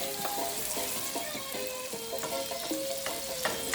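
Gravy sauce with seasoning sizzles and fries in a pan for Jamaican-style fried chicken, a steady bright crackle with some stirring scrapes, fairly quiet and close. No speech.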